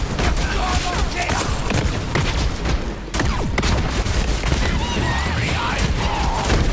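Twin guns firing in a video game, sustained dense rapid fire with a brief dip partway through, loud and continuous over a busy background of game sound.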